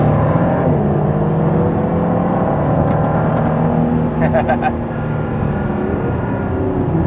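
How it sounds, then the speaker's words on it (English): Lanzante P1 GTR supercar approaching, its engine a rising, whirring drone that builds steadily under continuous road and wind noise, with a brief high-pitched whine partway through. "over my shoulder comes the Lanzante P1 GTR"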